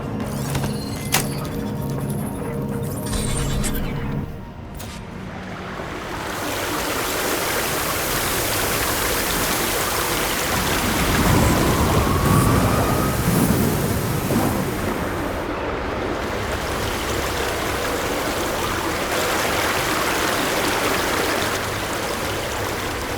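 Steady rushing water flows in a Horizon Forbidden West game scene, a broad continuous wash that swells slightly midway with no speech.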